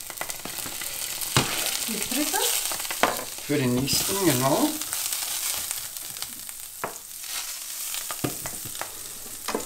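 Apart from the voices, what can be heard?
butter sizzling in a frying pan for egg pancakes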